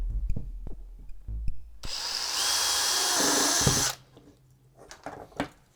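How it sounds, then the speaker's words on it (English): A power drill bores a hole through an old computer fan held in pliers: scattered clicks and handling knocks, then a loud steady whine for about two seconds, stopping abruptly, followed by more clattering. "you could use power tools and you could drill a hole through the fan"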